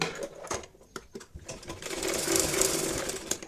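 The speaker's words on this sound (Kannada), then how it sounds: "ಮೇಲ್ಗಡೆಯಿಂದ ಈ ರೀತಿ ಒಂದು ಕಾಲು ಇಂಚ್ ಅಥವಾ ಹಾಫ್ ಇಂಚ್ ಮಡಚಿ ಇಲ್ಲಿ ಒಂದು ಸ್ಟಿಚ್ ಹಾಕೊಳ್ಳಿ" A sewing machine stitches down a quarter- to half-inch folded cloth edge on a small child's drawstring loincloth, whirring in short bursts at first, then running steadily and loudly up close with no voices.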